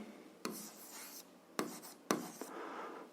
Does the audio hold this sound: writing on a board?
yes